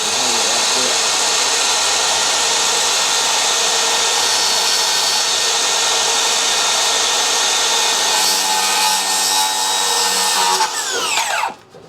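A DeWalt power saw fitted with a new finished-plywood blade cuts through wood, a loud steady whine running for about ten seconds before the blade spins down at the end.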